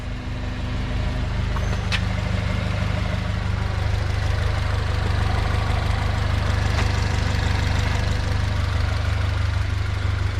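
Honda Civic with a D16 engine and a large turbo kit running at 5 psi, idling steadily with a low, continuous rumble throughout, loud and close, no voices.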